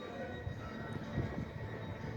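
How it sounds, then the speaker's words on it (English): A train pulling away from a station on a spring evening in Ryde, a quiet low rumble and hum heard from some distance, steady throughout with no speech. "the train is about to leave on the start of its journey"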